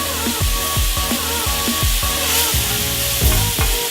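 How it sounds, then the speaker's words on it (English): Food fries in a pan beside almond-crusted cod, a loud continuous sizzle with regular rhythmic scrapes and knocks of a utensil stirring it roughly every half second. "I'm going to stir until it's really golden brown"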